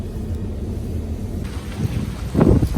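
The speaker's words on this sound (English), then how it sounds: "Very windy today." Strong wind buffets the microphone at a boat ramp, a continuous low roaring rumble that surges louder in gusts near the end, with no talking.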